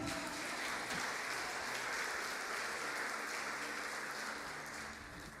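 Steady, dense applause from a large church congregation fills the whole stretch, holding loud and even before easing slightly at the end.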